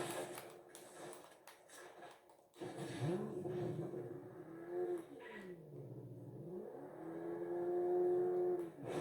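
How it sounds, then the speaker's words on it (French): Corvette engine in a racing video game, revving and rising in pitch with sweeping tone changes, loud and continuous, with music-like harmonic layers underneath. "Ça, c'est la corvette."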